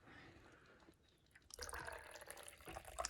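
Water poured from a tap into a small measuring cup while mixing a white vinegar solution for mold removal, starting as a faint trickle and swelling into a steady, close splashing stream.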